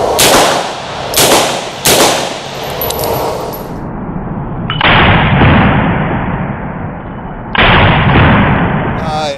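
A Sig MPX fires on 25-yard private outdoor range lanes: a few sharp, very loud cracks at the start, then rapid sustained fire that rings out with a heavy, echoing tail.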